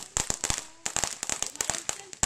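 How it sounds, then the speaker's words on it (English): Outdoor fireworks and firecrackers popping in rapid irregular bursts, sharp cracks clustering one after another at moderate distance. "Fireworks going on."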